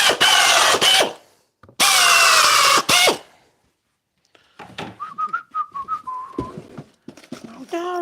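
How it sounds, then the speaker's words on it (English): A power drill drives screws into wood in a woodworking shop, with two loud, sustained bursts of whirring separated by a short pause, followed by quieter scraping and thin tonal squeaks. "Right, I'll screw that on there."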